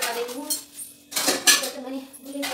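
Steel utensils and dishes clatter and clink as they are put away in a home kitchen, with bursts of metallic knocks and scraping close by and no talking.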